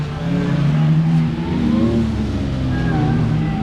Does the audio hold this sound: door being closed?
no